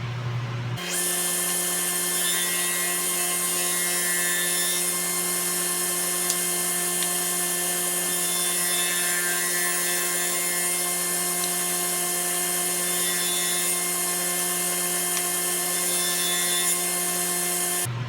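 A table saw with its blade lowered to a quarter inch runs for a steady cut through wood for a trinket box: a loud, continuous high-pitched whine with a grinding edge, starting abruptly and holding evenly until it stops.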